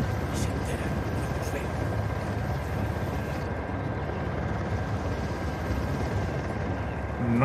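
A helicopter hovers in the Uncharted: The Lost Legacy video game, a steady rotor and engine rumble that runs continuously at moderate loudness without pause.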